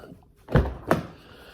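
A car door fitted with speakers and sound-deadening is slammed shut, giving a heavy low thunk followed a moment later by a second sharper latch knock, close and alone.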